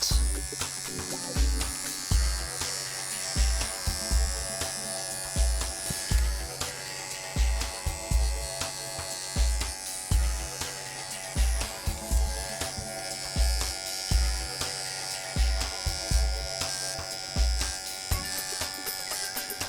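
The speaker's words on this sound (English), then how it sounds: "Just go over my clipper work and make sure it's nice and neat." Wahl professional clippers grooming a dog, a steady close electric buzz that pulses rhythmically as the blade moves over the coat, with little else heard.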